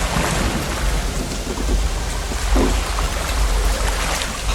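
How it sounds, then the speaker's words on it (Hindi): Heavy rain pours down steadily during a thunderstorm over a village, with low rolling thunder rumbling beneath the dense, continuous hiss of falling water. "सिर्फ बिजली कड़कने की आवाजें आ रही हैं।"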